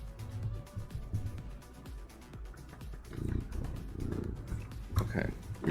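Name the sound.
cat purring close to the microphone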